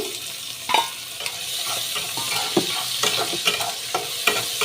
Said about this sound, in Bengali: এবার আমি পেঁয়াজ কুচি দিয়ে পেঁয়াজটাকে একটু ভাজা করে নেবো